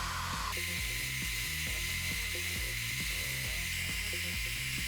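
A drill bores into a machined part for a shoulder rig follow focus, using a bit 0.5 mm narrower than the bearing bore, a loud steady whirring drone with a pulsing rhythm that runs unbroken throughout.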